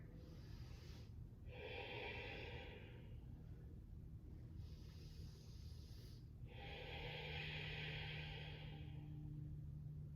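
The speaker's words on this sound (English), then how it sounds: "3 deep breaths here." Slow, deep breaths during a yoga stretch, a few long airy inhales and exhales close to the mic against a low, steady background hum.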